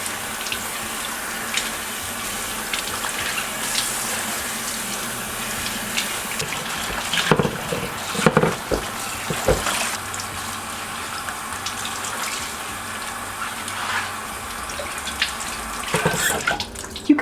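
Kitchen tap running steadily while vegetables such as cucumbers and cauliflower are washed, a continuous close splashing gush with shifting spatters and clunks as produce is handled, no talking.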